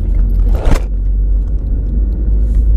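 Car cabin during a driving lesson as the car gently accelerates: steady low engine and road rumble, loud and continuous, with a brief scrape or rustle near the start and no talking.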